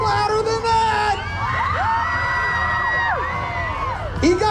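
A car show crowd at Holly Moparty 2022 screaming and cheering, sustained shrill yells and whoops from many people close by, swelling and overlapping throughout with a fresh burst near the end.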